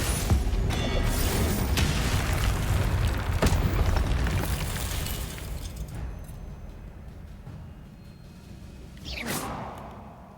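Confringo explosion spells in Hogwarts Legacy, dense rumbling blasts and booms that gradually fade, followed by a fainter whooshing burst near the end.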